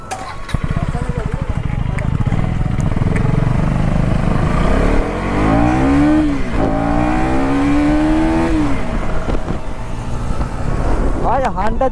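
KTM motorcycle riding and revving, a steady engine drone with rising and falling rev sweeps, loud and close throughout, with people talking over it.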